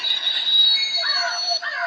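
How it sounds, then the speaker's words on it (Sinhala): A ghost train in a video game passes with a high metallic screech and squealing wheels, loud and close, with a wavering tonal whine near the end. "ඇත්තටම හොල්මන් කෝච්චියක් තියෙනවා"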